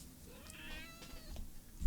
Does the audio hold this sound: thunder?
no